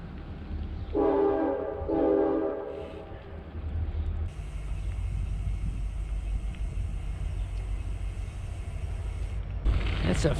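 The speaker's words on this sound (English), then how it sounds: "you can probably hear the railway over there." A train on the railway in Marfa, Texas rumbles past steadily, and a long horn blast sounds near the start over the low rolling noise of the railcars.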